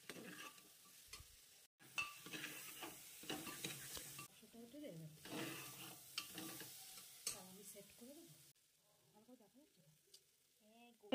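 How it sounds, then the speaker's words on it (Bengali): Spices with dry chilli powder and salt fry alongside soybeans and potatoes in a pan, a soft sizzle broken by irregular bursts of stirring and scraping, fairly quiet and fading toward the end. "ভালো করে 2 থেকে 3 মিনিট একটু লাল লাল করে মশলাগুলোকে ভেজে নেব"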